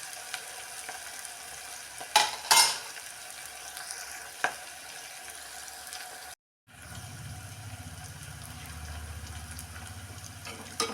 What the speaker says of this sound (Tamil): நல்லா வதங்கி வச்சுட்டு கொஞ்சம் பச்சை வாசனை போகிற வரைக்கும் வதக்கிக்குவோம்.